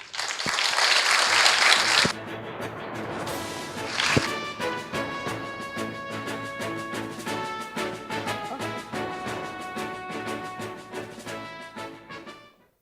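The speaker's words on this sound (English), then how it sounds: "Please give her a big round of applause." Loud applause at a forum opening ceremony lasts about two seconds, then a musical fanfare with sustained tones enters, a burst of clapping near four seconds, and the music carries on to the end.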